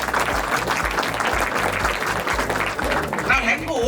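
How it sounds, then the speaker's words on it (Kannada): An audience claps loudly and steadily throughout a gathering, a dense continuous patter with a faint steady pulse underneath, fairly near and without pause. "ಜೋರಾಗಿ ಚಪ್ಪಾಳೆ ಅಂತಾರೆ"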